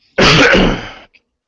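A single harsh, close-up cough or throat clear, loud and abrupt, lasting about a second, with no talking.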